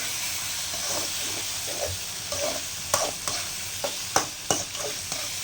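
Tomatoes sautéing in a hot pan for semiya upma, a steady close sizzle and hiss with repeated scraping, clattering strokes of a spoon stirring through them, no voices.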